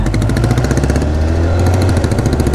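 A classic Royal Enfield Bullet motorcycle engine over 20 years old, a loud, close, rapid thumping idle with a steady even pulse, deep and rumbling throughout.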